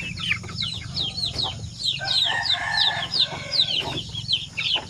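Basilan and Zampen native chickens and chicks on a farm, with a busy chorus of high chick peeps and hen clucks close by, nearly continuous and fairly loud.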